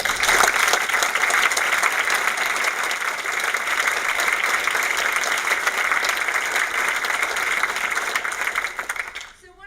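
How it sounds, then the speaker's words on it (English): An audience at a panel Q&A gives sustained applause, a dense steady wash of clapping that holds for several seconds before tapering off. "Please, another round of applause for the"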